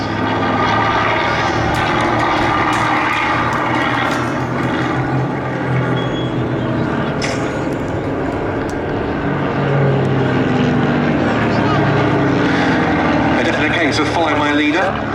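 An aerobatic display team's jets fly at a live air show, rejoining formation after crocodile loops. Their engines make a loud, continuous roar that swells and fades slightly throughout, while a commentator talks over the public address.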